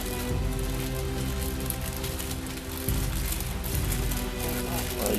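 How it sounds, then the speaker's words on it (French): Steady rain falls on a surface around a mango tree being air-layered, a constant dense patter with a low rumble underneath, moderately loud and uninterrupted. "Ah, il pleut."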